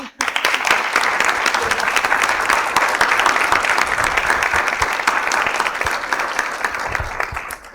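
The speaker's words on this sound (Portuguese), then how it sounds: "eu quero pedir um aplauso à Joana" Sustained audience applause for a woman named Joana at a talk, dense and loud from start to finish, a steady wash of many hands clapping, with faint murmurs underneath.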